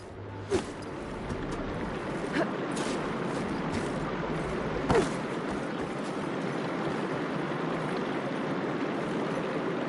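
Water running and trickling in an indoor room in Horizon Forbidden West, a steady soft flowing wash with a few faint clicks and knocks over the top.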